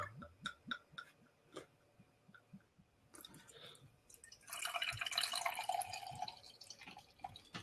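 Central City Brewing Thor's Hammer beer is poured into a glass, a quiet fizzing, foaming rush building in the second half after some scattered drips and small clinks, close and fairly faint.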